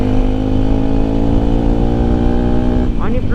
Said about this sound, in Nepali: गियर डाउन गर्दा नि त भुर भुर भुर भुर टाइपको क्या।